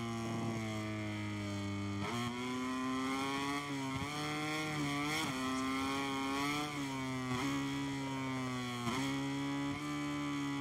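Racing motorcycle engine in the MotoGP 23 video game, a loud high-pitched whine that climbs through the revs and drops sharply at each gear shift, repeating across the run with no talk over it.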